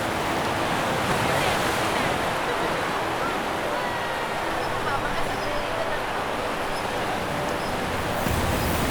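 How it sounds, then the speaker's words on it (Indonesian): Calm sea waves wash steadily onto the beach at Ujung Genteng, Sukabumi, as a continuous soft surf roar with some wind across the microphone. "Ombak yang tenang menghentak perlahan di pantai"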